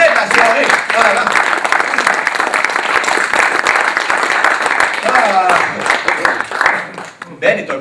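Audience applause fills a comedy show hall, loud and sustained, a dense wash of clapping that thins slightly near the end while a voice speaks over it at moments.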